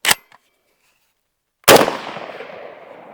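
An SG36 rifle firing BALK .223 ammunition on a range: a faint early pop, then one loud sharp report about halfway through that rings and decays for over a second, with quiet between.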